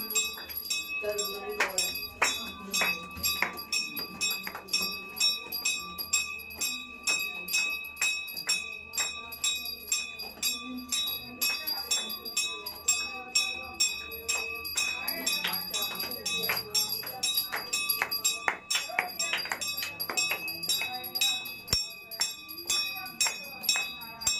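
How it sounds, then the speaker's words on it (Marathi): A hand-rung temple bell at the Jagdamba temple in Vani, rung during a Saptashrungi pilgrimage procession, clangs in a steady, rapid series of ringing strikes with a lingering metallic hum throughout, close and fairly loud, with faint voices in the background. "घंटी वाजविती"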